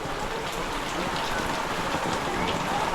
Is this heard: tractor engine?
no